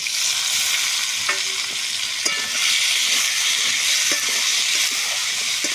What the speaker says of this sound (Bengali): এবার দেখো আমি পেঁয়াজ, টমেটো, কাঁচা লঙ্কা চেরাগুলো দিয়ে দেবো।